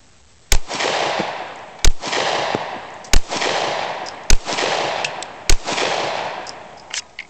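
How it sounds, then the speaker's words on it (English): Five sharp, loud pistol shots from a Glock 26 or Kahr P380 fired at targets outdoors, evenly spaced about a second apart, each followed by a short ringing echo, then a fainter final pop. "Gonna shoot at the bottom target first."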